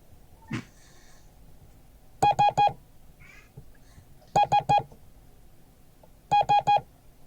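Morse code letter S sent as three short, evenly spaced beeps, repeated three times with pauses between groups; clear, close electronic tones over a quiet background.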